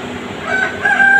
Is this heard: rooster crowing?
yes